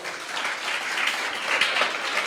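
Sustained applause from a church congregation during a sermon, a dense wash of clapping that holds steady for a couple of seconds.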